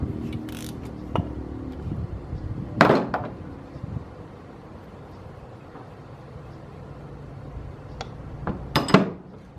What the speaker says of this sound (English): take that nut about halfway off and then just tap it like that. That separates that cap.